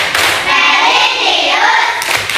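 A classroom of children doing the rhythmic PPK clap chant: loud group chanting voices with a sharp burst of claps at the start and another near the end.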